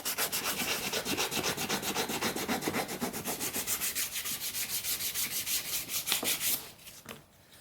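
Sandpaper is worked by hand in quick, even back-and-forth strokes to lightly sand a carved wooden horse, giving a close, rhythmic rasping that slows and fades near the end.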